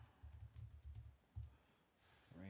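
Typing on a computer keyboard, a quick run of soft close key clicks in an irregular rhythm, pausing briefly before a couple more taps, with no talking.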